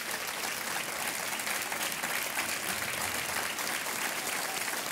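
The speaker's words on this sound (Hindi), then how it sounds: "तालियां बजती रहनी चाहिए" Studio audience applause on a televised quiz show, a dense, sustained roar of clapping throughout, even and unbroken at moderate level.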